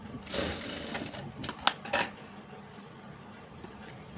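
Sewing machine stitching the lining of a princess-cut blouse, a brief run of rapid mechanical stitching followed by a few sharp clicks and clacks of the machine, near and fairly quiet against a low room hum.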